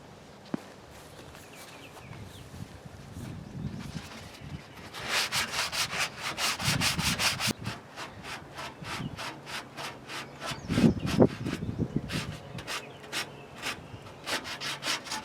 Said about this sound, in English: I'm going to use a sanding block and just sand the areas